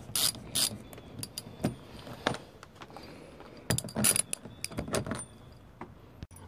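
Quick ratcheting clicks come in short irregular bursts from a 7/8 ratchet tightening down a cam lock latch, close and fairly quiet, with small metallic handling clatter between strokes.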